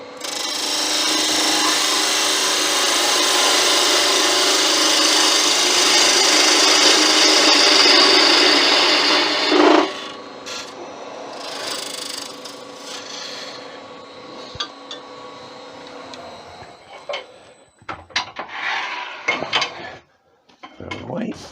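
A wooden bottle opener blank is squared off on a wood lathe, giving a loud, continuous rasping cut for about ten seconds that then drops to quieter intermittent scraping and knocks.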